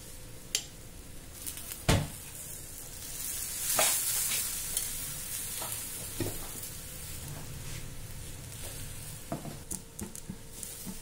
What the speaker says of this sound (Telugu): ఆ తర్వాత పెన్న మీద ద కొద్దిగా నూనె వేసి కాల్చుకోవాలి।